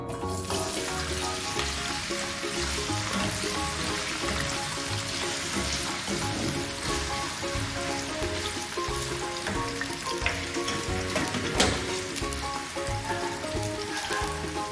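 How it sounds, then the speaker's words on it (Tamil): Oil sizzles and crackles steadily as small pieces of elephant foot yam fry for a Jaffna curry, a dense, continuous hiss with small pops throughout. "நாங்கள் சின்ன துண்டா வெட்டி வச்சிருந்த கருணக்கிழங்கை பொரிக்க போகிறோம்"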